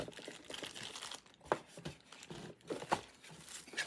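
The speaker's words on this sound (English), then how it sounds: "Peel off the sticker and relabel it." A sticker is peeled off a small cute gift box, giving a close, crinkly, tearing rustle with a couple of sharper snaps as the adhesive lets go. No one speaks.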